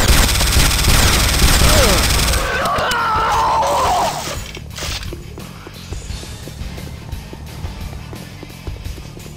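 A SAM site blows up in Command & Conquer: Renegade: a loud, roaring blast with crashing debris that fills the first few seconds, then decays into scattered crackles and thuds over a lower rumble of battle noise.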